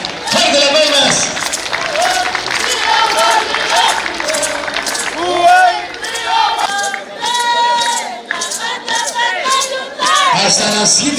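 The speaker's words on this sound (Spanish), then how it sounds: "Pedimos al respetable público el aplauso fuerte" A festival crowd at a Huaylia celebration in Lima claps and cheers loudly amid shouts and music, with voices calling out over the noise for the whole stretch.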